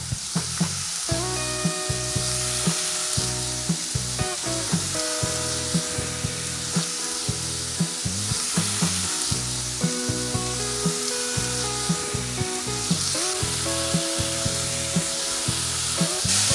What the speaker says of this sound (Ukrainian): На попередньо добре розігріту сковорідку додаємо трішки олії та викладаємо нашу курятину в один шар.